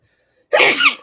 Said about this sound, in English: Ignore the sneeze.